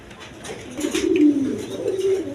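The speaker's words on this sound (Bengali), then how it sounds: "দর্শকবৃন্দ এখানে এক পেয়ার কবুতর আছে, গররা কবুতর" A pair of red Gola pigeons coo close by, a soft low throaty call swelling and fading over a couple of seconds against quiet background noise.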